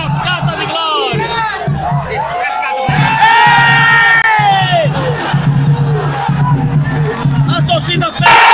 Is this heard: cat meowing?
no